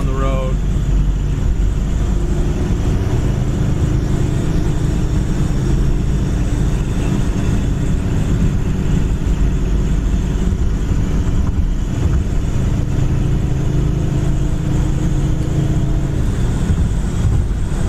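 A 1970 Chevy Nova cruises down the road at around 65 mph, giving a continuous loud broadband engine and road rumble from inside the car without letup.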